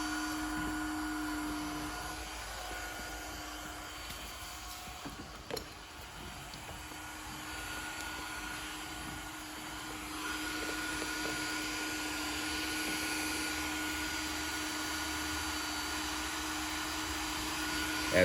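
A hot air welding gun running at about 700 degrees for a PVC patch repair blows a steady, droning airflow hiss for the whole stretch, loud and close with a constant tone and no speech.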